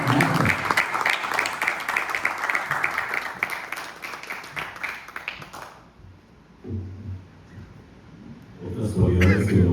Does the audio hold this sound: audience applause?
yes